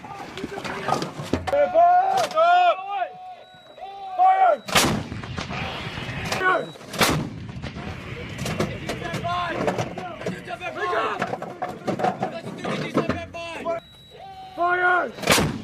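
Military artillery pieces fire during the Cobra Gold 2020 exercise, loud sharp blasts booming out one after another with shouted commands and voices between them.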